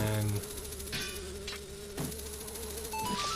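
Bees buzzing in The Legend of Zelda: Majora's Mask, a thin steady insect drone over game music with a few short effect sounds layered in.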